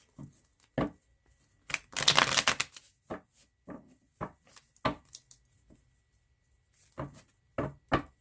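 Soft bursts of tarot cards being shuffled up close, a longer riffle-like rush early on, then scattered short card slaps and taps with pauses between.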